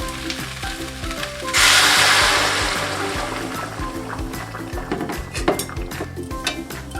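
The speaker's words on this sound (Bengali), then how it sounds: "আলুটা কষানো হয়ে গেছে, এবার এর মধ্যে গরম জলটা আমি দিয়ে দেব।" Hot water hits a pan of sautéed potatoes, setting off a loud, bright sizzling burst that slowly settles into steady frying with occasional clinks of a utensil against the pan.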